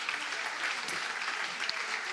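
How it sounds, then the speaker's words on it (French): Steady applause from an audience at an evening awards ceremony for a women-in-cybersecurity trophy, as presenters are called up onto the stage; dense, even clapping fills the whole stretch with no voices over it. "mesdames, sous vos applaudissements."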